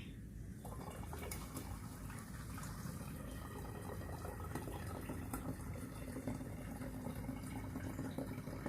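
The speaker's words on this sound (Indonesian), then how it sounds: "sekarang ini kita tuang si teh telangnya" Butterfly pea tea poured into a container for a homemade soda, a faint continuous trickle and splash of liquid with soft drips, quiet and close throughout.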